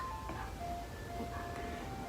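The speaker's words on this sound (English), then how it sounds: "Excuse the ice cream truck" An ice cream truck passes outside, playing its tinkly chime melody at a moderate distance, steady and unbroken over a low background hum.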